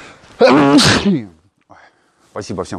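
One loud, close sneeze from an adult, followed by a short quiet gap and then someone speaking briefly.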